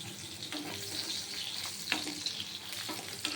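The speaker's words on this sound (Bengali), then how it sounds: "মাছটাকে এই যে লাল করে ভাজলাম দেখুন" Puti fish frying red in hot oil makes a steady, close sizzle and spatter, with a few brief scraping clicks throughout.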